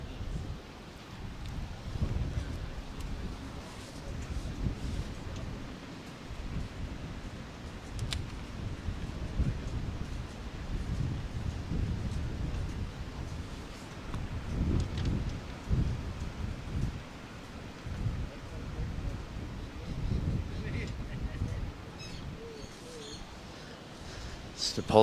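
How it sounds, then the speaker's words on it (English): Wind buffets a microphone outdoors at a lawn bowls green during a club pairs final, producing irregular low gusty rumbles beneath a person talking throughout. "It's pretty windy up here."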